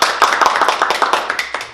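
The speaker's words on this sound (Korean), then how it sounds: "다 같이 박수!" A studio audience at a Korean medical talk show claps briskly in a short, even burst of rapid, close handclaps that fade slightly at the end.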